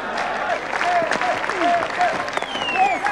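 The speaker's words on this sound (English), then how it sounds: "He gets the standing applause of his Australian teammates." A crowd applauds at a 1998 Test cricket match as Mark Taylor reaches his century against Pakistan, with steady clapping and crowd noise throughout while a commentator speaks over it.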